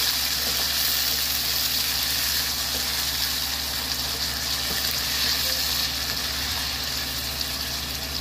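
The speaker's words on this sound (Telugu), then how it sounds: "వేసుకున్న తర్వాత ఇలా కలుపుకోవాలి." Tomato curry cooks in a pan with a continuous, even sizzle and bubbling hiss, heard close, with occasional faint stirring scrapes and no talking.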